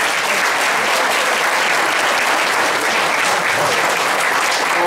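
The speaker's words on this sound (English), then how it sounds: "Please, a round of applause for those guys." Loud, dense applause from the crowd at a county Republican picnic, a continuous close wash of many hands clapping at once with no pauses.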